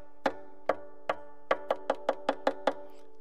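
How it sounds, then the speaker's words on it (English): Knocking taps, likely on a wooden instrument or surface, mark rocky ground in a toddler music session: about ten crisp knocks, sparse at first and then quicker and evenly spaced, close and fairly quiet with no talking. "So I'm going to make a knocky sound like this."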